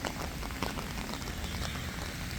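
Rain falls steadily outside a dentist's office, a dense, continuous patter of drops on surfaces, fairly quiet and uniform with no voices.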